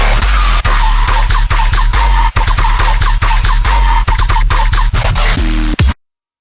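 A remake of a bass sound plays loud and aggressive: gritty distorted bass stabs over heavy pounding kicks and sharp rhythmic hits, cutting off abruptly just before the end.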